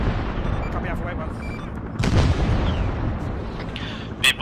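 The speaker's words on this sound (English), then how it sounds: "Enemy mortars sound like they're from the west, from what I can hear." Mortar rounds and gunfire in the military video game Arma 3, set in a Vietnam-era SOG Prairie Fire scenario, with a couple of sharp, distant-sounding blasts over a steady rumble of battle and faint voices.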